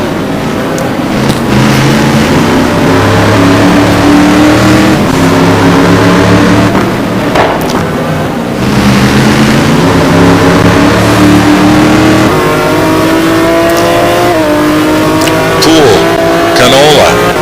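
Big Ford GT1 race cars chasing a McLaren around Monza in a racing video game, engines droning and revving continuously at high volume, with commentary talking over the steady roar throughout.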